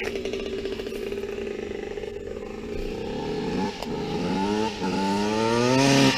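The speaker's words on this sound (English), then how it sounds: "this is a Dodge Caravan. It's got no exhaust. Oh yeah, rev that son of a bitch" A Dodge Caravan minivan running with no exhaust idles with a rough clatter, then revs up in rising, harmonic-rich pulls that grow louder toward the end.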